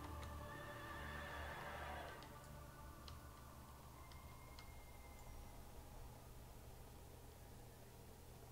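A horse neighs after being summoned in the video game World of Warcraft, a short whinny in the first two seconds followed by faint ticking game sounds at low level.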